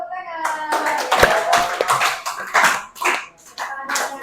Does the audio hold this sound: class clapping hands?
yes